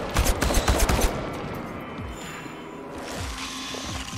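Gunfire in the video game Chernobylite: a dense burst of loud, rapid shots fills the first second, then fades into a low ambient rumble with a few faint thuds.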